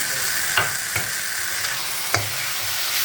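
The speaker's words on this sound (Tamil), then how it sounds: "இதையும் ஒரு தடவை நல்லா வதக்கி கொடுத்துருங்க." Onion, tomato and ginger-garlic paste sauté in a pan for Tamil-style fish curry, giving a steady soft sizzle with a few sharp spoon scrapes and taps against the pan.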